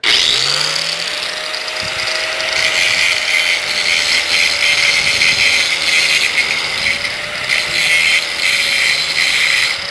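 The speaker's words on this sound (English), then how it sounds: "Clip of the grinder if I can." A grinder runs steadily and loudly throughout, a continuous high whine with a sustained tone, close to the mic and with no talking over it.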